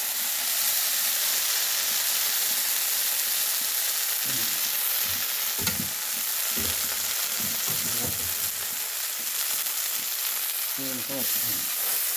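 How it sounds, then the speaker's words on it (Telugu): Cowpea flour cakes fry in oil in a thick pan, with a loud continuous sizzle and hiss and intermittent soft pressing and stirring sounds close by. "ఇలా నూనె వేసి దలసరి మూకుట్లో వేసుకోవాలి, చేతితో ఒత్తుకోవాలి"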